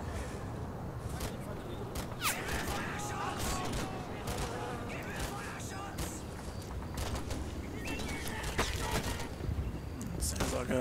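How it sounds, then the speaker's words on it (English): Dense gunfire from an infantry squad opening up on two flak guns in a Combat Mission Normandy battle, a continuous crackle of rifle and machine-gun shots under a steady battle din. "Sounds like a full infantry squad's opening up on the two flak guns"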